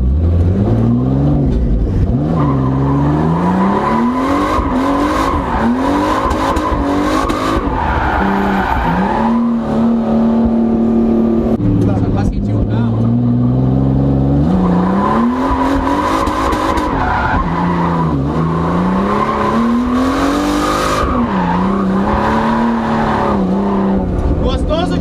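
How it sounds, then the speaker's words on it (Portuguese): A turbocharged Nissan 370Z revs and accelerates hard, its engine note rising and falling repeatedly with tire squeal mixed in, loud and close, while people talk over it. "o primeiro contato que eu tive então com o 370Z foi só pra dar uma aceleradinha"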